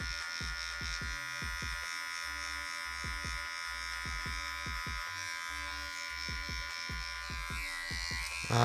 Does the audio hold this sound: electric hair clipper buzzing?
yes